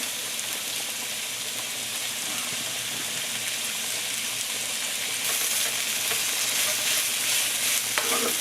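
Onions sizzle steadily in hot ginger, garlic and pepper oil with carrots in the pan, a dense close frying hiss with occasional scraping stirs throughout.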